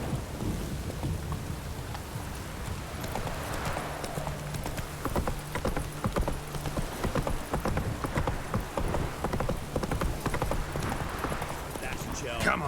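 The horse Roach's hooves clip-clop steadily on the ground in The Witcher 3, a regular walking rhythm heard over rain and distant thunder, with a voice talking in places.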